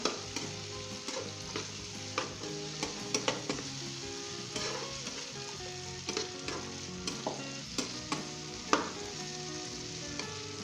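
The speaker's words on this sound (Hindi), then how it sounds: "यहाँ पे हम इसके अंदर आलू शामिल करेंगे, मिक्स कर लें" Potatoes being stirred into a frying aloo gobhi curry, a dense crackling sizzle with repeated scraping and knocking of a spoon against the pan, close and continuous without speech.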